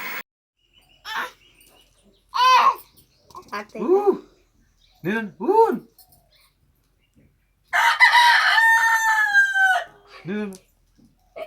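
A voice mimics a rooster's crow, with clucking imitations and a long drawn-out cock-a-doodle-doo, broken by pauses between calls.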